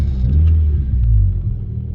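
A car engine that keeps cutting out, still warming up at the start of a drive, gives a steady, loud low rumble with slight surges and dips while moving, with no talking.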